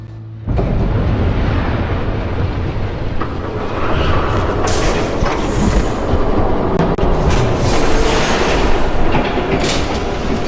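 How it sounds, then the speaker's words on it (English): A train rumbles past with loud, steady clickety-clack of wheels on rails and a sustained roar, in a night scene from the Batman Telltale Series video game. "There's a train coming. Take cover."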